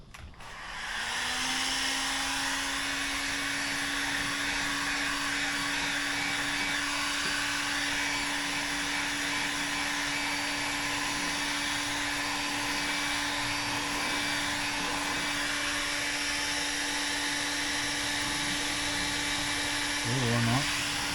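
A heat gun blows steadily on scooter plastic for a repair, a constant close whirring drone with a high airy hiss that runs without a break, then shifts briefly near the end while people talk faintly over it.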